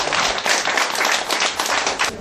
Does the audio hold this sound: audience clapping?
yes